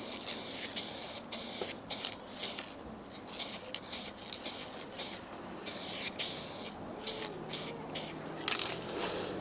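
Spray paint applied to a Fiat 500 in quick, close hissing bursts, a dozen or so short passes with brief gaps between them.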